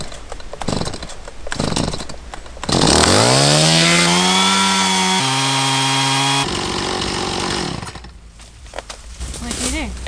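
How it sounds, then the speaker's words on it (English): Chainsaw cutting a fallen tree across a sandy 4x4 track, the engine revving up loud, bogging into the wood with shifting pitch for several seconds, then dropping off, with people talking before and after. "got the chainsaw stuck in the tree."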